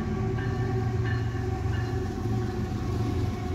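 A container train rolls past on the tracks with a steady, loud rumble of wagons and faint rhythmic wheel clatter, continuous throughout.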